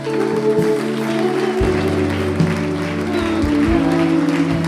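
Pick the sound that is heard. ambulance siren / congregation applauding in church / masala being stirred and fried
congregation applauding in church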